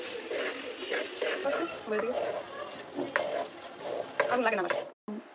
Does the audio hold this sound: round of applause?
no